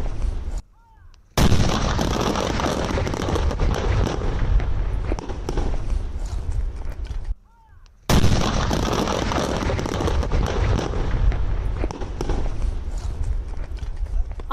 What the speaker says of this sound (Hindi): जोरदार धमाके के साथ यहां पर विस्फोट होता है, ये वीडियो सामने आया है